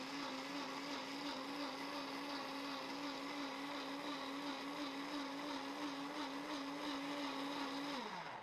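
A kitchen blender purees tomato soup with a loud, steady motor whine that holds for several seconds and then winds down at the end, with no talking.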